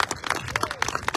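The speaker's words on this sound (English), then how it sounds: "give a round of applause for the third position" A small audience at a council and school board candidate forum claps for a candidate: a handful of distinct, irregular claps, close and moderately loud, with faint talk.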